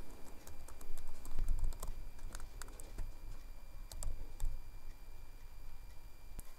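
Department names are entered into an Excel spreadsheet on a computer keyboard: steady, rapid key taps close by, over a constant background hum, with no speech.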